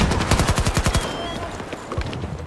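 Submachine gun in Battlefield 2042 firing a rapid automatic burst for about a second, then a few scattered shots trailing off amid game noise.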